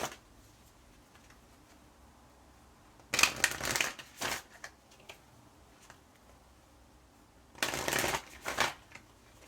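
Isis Oracle deck cards are shuffled in two brisk riffling bursts, each about a second long, separated by quiet with a few soft taps, close and clear.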